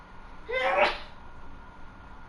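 A single sneeze sounds during a Madden 20 football game session, one sharp burst close by over quiet background noise.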